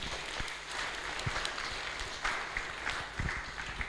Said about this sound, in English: So let's give them a huge round of applause.